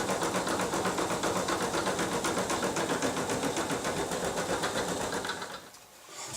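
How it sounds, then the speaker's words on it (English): A sewing machine runs a tack-down stitch on fleece over a heart design, a fast steady mechanical chatter up close that stops briefly near the end. "we're going to stitch the tack down stitch."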